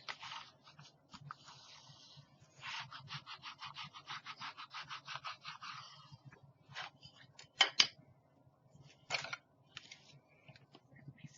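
Glued paper is burnished down onto a Christmas folio with quick, rhythmic rubbing strokes in bursts, then a few sharper isolated scrapes, close and fairly quiet, with no voices.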